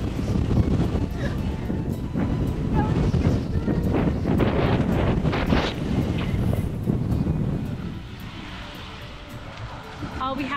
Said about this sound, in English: And the wind speed here is always high.